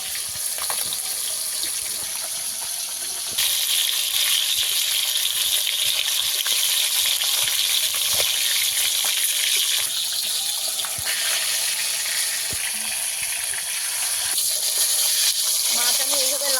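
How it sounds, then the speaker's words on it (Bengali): Fish deep-frying in hot oil in a pan, a continuous loud hissing sizzle with bubbling that shifts in intensity over time, with faint background sounds. "মাছ ডোবালটা ভেজে নেব আমি। মাছ একদম লাল লাল করে ভেজে নিতে হবে।"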